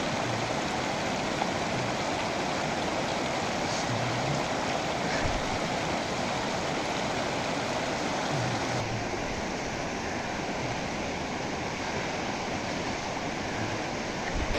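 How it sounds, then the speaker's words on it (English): Cold mountain stream on a Lahaul Himalaya trek rushes continuously, a steady loud broadband wash of flowing water heard alone with no talk. "we are now figuring out to cross our first water stream."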